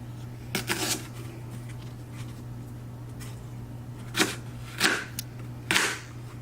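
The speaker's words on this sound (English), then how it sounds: "just slice this thinly. And with the grain, that's the secret of cutting ginger." Knife thinly slicing ginger with the grain on a board, a handful of sharp, close cutting taps spaced irregularly over a steady low hum, with no talking.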